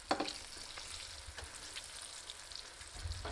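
Bluegill fillets fry in a small skillet as a soft, continuous crackling sizzle, faint and steady with a brief louder burst at the start.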